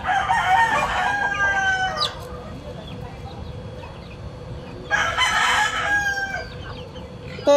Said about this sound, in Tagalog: Ang kain mo sa manok.